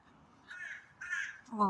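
Two hoarse caws from a crow, fairly distant and outdoors, followed by the start of another call; no speech is present.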